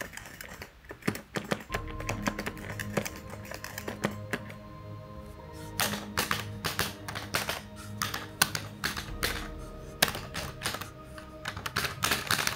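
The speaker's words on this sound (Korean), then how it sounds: "버튼 소리 확인합시다" Sanwa buttons on a Mad Catz TE3 arcade stick are pressed in quick irregular bursts, giving crisp, close plastic clicks and taps that sometimes come in fast clusters, with no voices.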